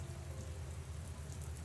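Heavy rain pouring down outdoors in a video game scene, a dense, continuous hiss of falling water that stays steady and fairly quiet throughout, with no talking.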